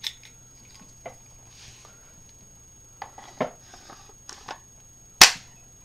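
A Tiberius T9/T8 paintball marker running on fresh CO2 clicks and taps with handling noises, then fires a single ball with one sharp, loud pop near the end.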